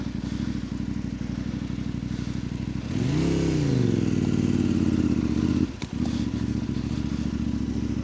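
A CFMOTO 800MTX motorcycle engine idles with a steady rumble, then revs hard and accelerates in second gear with a rising tone. It drops off with a brief clatter before settling back to a steady run.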